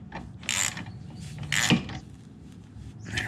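Socket wrench ratcheting on a nut while a striping kit is fitted to a Toro TimeMaster 30-inch lawnmower: several short, close ratchet bursts with clicking mechanical rasps and pauses between them.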